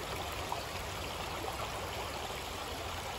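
A creek flows steadily in a constant broad rushing wash of water, close and even throughout, with no voices.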